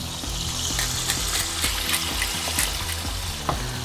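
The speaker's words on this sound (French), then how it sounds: "Donc ça commence doucement à saisir." Chicken livers seasoned with salt and pepper searing in a hot pan, a loud steady sizzle with faint scattered crackles throughout, close up and without talk.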